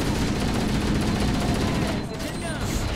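Rifle fire in Halo 1 Anniversary, a dense continuous stream of shots filling the whole stretch, loud and close, briefly dipping near the end, with players talking over it.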